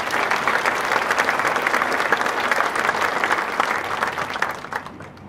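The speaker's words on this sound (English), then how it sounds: "Let's take a moment to give them a round of applause." A high school graduation crowd breaks into sustained applause, a dense, even wash of many hands clapping at moderate distance that holds steady for several seconds before starting to fade.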